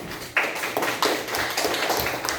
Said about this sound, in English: Group 3, give them a round of applause.